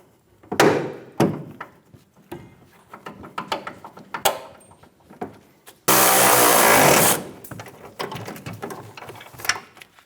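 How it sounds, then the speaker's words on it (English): A metal suspension bracket on a 2005–2015 Toyota Tacoma is tapped to line up bolt holes, giving a run of close, irregular knocks and clanks, then a loud sustained mechanical burst before more scattered taps. "You may have to tap the front of the bracket to help these line up."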